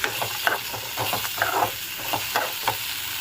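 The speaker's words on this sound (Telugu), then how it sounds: "ఇందులోకి కట్ చేసి పెట్టుకున్న ఆనియన్ టొమాటో అండ్ పచ్చిమిర్చి వేసుకుందాము మొత్తం ఒకసారి కలుపుకుందాం" Chopped onion, tomato and green chili being stirred into a hot sizzling pan of peanuts, with a steady frying hiss under rhythmic scraping stirs, close and fairly loud, no voices.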